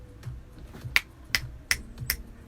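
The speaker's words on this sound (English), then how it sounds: "some finger snaps." Real finger snaps played for a music track land in a steady rhythm, four sharp, close, dry clicks evenly spaced over a soft background of low music, with no talking.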